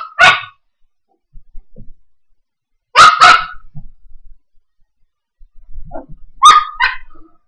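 Puppies bark in short, sharp bursts, three separate clusters of yips and barks with quiet gaps between them, close and loud.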